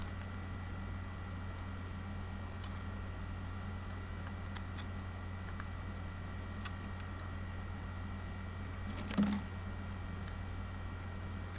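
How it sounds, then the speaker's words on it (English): Scissors snip off the excess wire of a freshly wound vape coil, a single faint, close cut against a quiet room hum. "Then we're going to trim off the excess."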